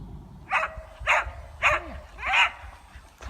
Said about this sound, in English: So these three dogs were having a lovely time.